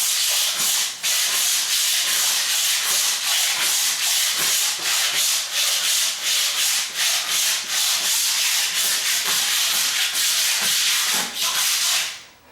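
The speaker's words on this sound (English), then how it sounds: "I'm going to have to go back over this with this one" A long-handled razor scraper is pushed across a floor in steady, repeated strokes, a loud close scratchy rasp with brief pauses between passes, tapering off at the very end.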